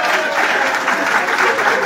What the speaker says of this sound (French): est-ce qu'on peut applaudir pour Wilfried de Kanga?